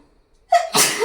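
A quick sharp intake of breath, then a single loud allergy sneeze right up close.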